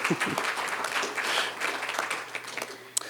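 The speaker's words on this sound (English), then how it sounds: "I'll pause for your applause." Steady applause from a crowd, dense clapping sustained throughout, fairly close and even in loudness, with no talking over it.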